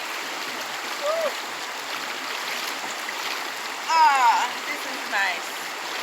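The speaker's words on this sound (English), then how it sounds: "This is pure river water." Pure river water flowing near sundown in Jamaica, a soft, steady wash running throughout, with a person speaking briefly and a few faint whoops and calls rising over it.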